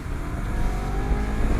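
A Honda CBR250RR SP QS motorcycle engine in sport plus mode, a brief, moderately loud rev with steady engine rumble heard up close.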